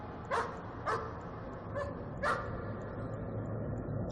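A dog in the horror video game Layers of Fear barks four times at uneven intervals, sharp and fairly close, over a low, steady ambient drone.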